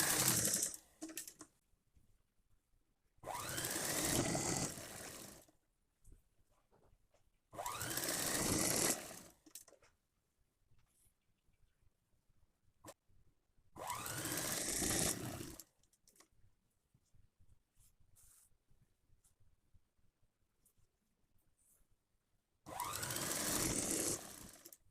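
Sewing machine stitching the hem of a chudithar pant, running in four separate bursts of rapid whirring lasting a few seconds each, with quiet pauses in between.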